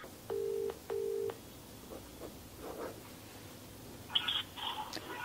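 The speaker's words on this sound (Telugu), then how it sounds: "ఓకే, నేను కాల్ చేస్తాను, ఒకసారి లైన్ లో ఉండండి." Two short, clear telephone keypad tones sound as a number is dialed to place a call. Softer handling clicks and a brief burst of high electronic tones follow.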